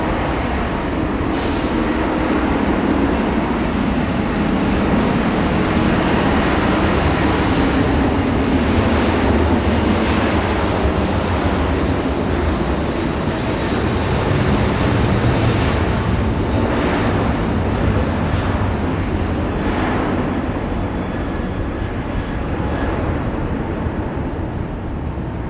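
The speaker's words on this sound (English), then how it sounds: "Right now, the A380 Super rolling 16 right." Airbus A380 rolling for takeoff on runway 16 right at Sydney Airport, a loud sustained jet roar with broad rushing hiss that holds steady throughout, heard from a distance with no talk.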